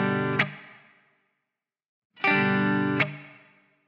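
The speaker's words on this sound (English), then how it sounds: "put the slight palm on and try and get that percussive muting sound" Electric guitar strummed through effects with distortion and chorus, two ringing chords, each ending in a sharp palm-muted percussive downstroke that leaves a decaying tail, the second after a short silence.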